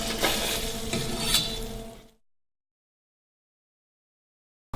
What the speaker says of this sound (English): we're going to add the garlic and the onions to that